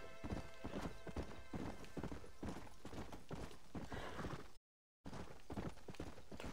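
Hooves of a galloping horse in a western video game drum in a quick, loud, even rhythm, joined by a whinny. The sound drops out for a moment of silence and then the galloping resumes.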